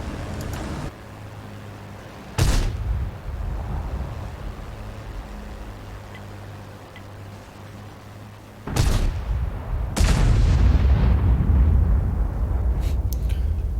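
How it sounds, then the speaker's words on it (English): Heavy artillery shells boom in a tank battle video game, two sharp blasts a few seconds apart then another big impact with a rumbling tail, over a low engine drone. "That was a good hit, artillery."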